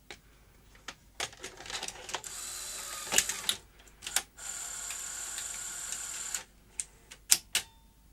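A SuperBeta SL-HF600 video recorder powering up with a series of mechanical clicks and ticks, then a steady whirring motor hum between clunks, close and fairly quiet.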